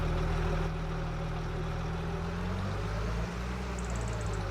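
A tractor engine drones steadily while pulling a disc harrow across a Montana field in Farming Simulator 25, a low idle-like hum with a brief shift in pitch partway through, fairly quiet and alone.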